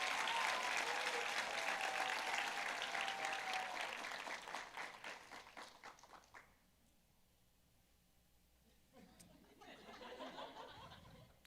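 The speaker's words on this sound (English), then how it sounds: "Give her another round of applause." An audience applauds a contestant at a Jr. Miss and Miss Cherokee pageant, a loud round of clapping with a little laughter that fades out after about six seconds, then a brief second swell of claps and murmurs.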